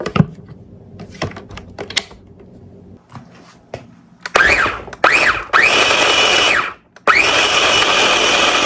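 A blender whirs through fire cider ingredients with raw horseradish and apple cider vinegar, starting after scattered clicks and taps, revving in several short pulses, pausing briefly, then running steady and loud.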